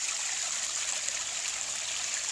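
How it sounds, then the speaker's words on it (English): Water cascades steadily through a homemade garden water feature, a continuous close splashing trickle with an even, unbroken hiss and no voices. "Sound of cascading water in a water feature I made with my own hands?"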